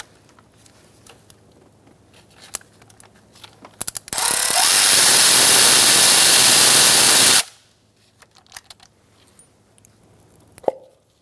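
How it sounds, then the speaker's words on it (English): An 8mm socket wrench removing a bolt during spark plug replacement on a 2012-2018 Ford Focus 2.0L four-cylinder: scattered light clicks, then a loud sustained ratcheting burst of about three seconds, followed by soft taps. "Using an 8mm socket, I'm going to remove this bolt."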